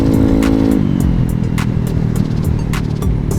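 Close, loud engine of a Honda Ruckus scooter being ridden, a steady motor drone whose pitch shifts early on, with light rattles and clicks over it.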